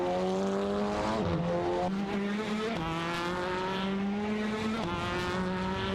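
Touring race cars including an Audi RS3 TCR and a Honda Civic in an AI racing game, engines droning at high revs with shifts and pitch drops as they pass, a steady loud mechanical whine throughout.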